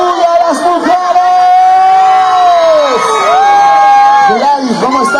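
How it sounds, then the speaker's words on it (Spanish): A crowd cheers and whoops for the women at a Rosas y Claveles event in 2022. The noise is loud and sustained, with a tonal voice or instrument ringing over the shouting throughout. "Vengan los aplausos. ¡Una bulla a las mujeres!"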